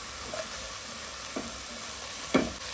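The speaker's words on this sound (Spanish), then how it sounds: "Y vamos a seguir sofriendo." Ingredients for a chicken broth, with tomato bouillon added, are sautéed in a pan, giving a steady soft sizzle broken by a few scraping stirs, the last one louder, with no one speaking.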